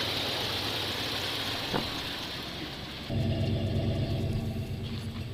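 A 1989 GMC 3500 pickup truck engine runs steadily with a low rumbling idle, then the tone shifts heavier and louder partway through, continuing without pause.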